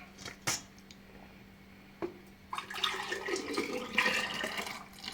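Water being poured out while measuring liquid for homemade lecho. A few faint clinks open the clip, then a steady, close splashing pour builds and runs to the end, with no speech.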